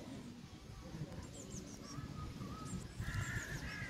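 Birds call outdoors near an open hotel restaurant veranda, with crow-like caws and chirps over a soft low background murmur, growing a little louder toward the end.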